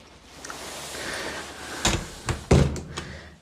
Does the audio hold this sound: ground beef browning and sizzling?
no